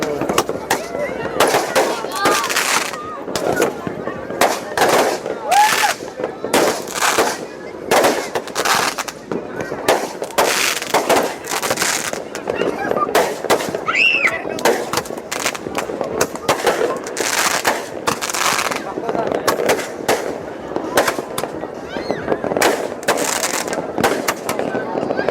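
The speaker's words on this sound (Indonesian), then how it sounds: "kembang api juga ya" New Year's fireworks at a hilltop lookout at Puncak Stelling: a long run of sharp, rapid bangs and crackles, some distant and some nearer, with a crowd of voices underneath.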